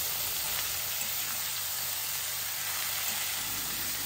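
Potatoes and bottle gourd peel fry in a pan with a steady, dense sizzle that holds even and unbroken throughout, close and moderately loud, with no voices.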